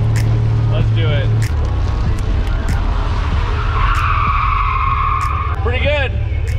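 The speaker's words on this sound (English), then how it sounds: "Should we see how good the brakes are?" A 1986 Nissan 300ZX brakes hard and its tires skid in a loud screech over engine rumble, with people talking excitedly in the car during the stop.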